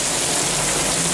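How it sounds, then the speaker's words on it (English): Steady rain falls as an even, continuous hiss at fairly high level, a dense wash of drops with no talk over it through the whole stretch. "The scriptures sound better with the rain, yeah, trinkling in the background"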